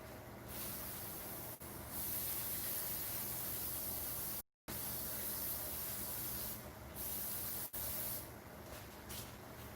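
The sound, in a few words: spraying brake cleaner on Predator 212cc engine parts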